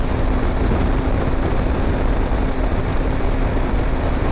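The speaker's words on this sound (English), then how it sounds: "There's so much wind hitting, there's so much noise from the engine, radiator, whatnot." Loud, steady motorcycle engine roar mixed with heavy wind buffeting and radiator noise, continuous and close, recorded while riding at speed on a long-distance road trip through Andhra Pradesh, India.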